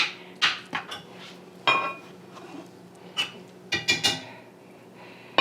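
A lid goes back onto a pot of simmering meat spaghetti sauce with a series of sharp metallic clanks and clinks. The hits are scattered and close, with quiet gaps between them.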